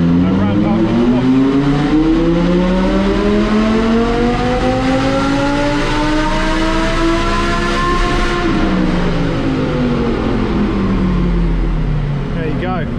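Boosted Audi R8 V10 engine on a load dyno, revs climbing steadily under full throttle with rising harmonic tones, peaking and then dropping back; loud and sustained throughout, with a voice talking over it.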